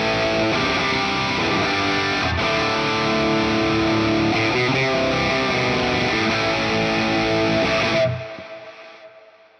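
An electric guitar played straight through a Hotone Ampero II Stage amp and cab model, with no compressor, rings out in loud sustained chords for about eight seconds before cutting off into a short fading tail.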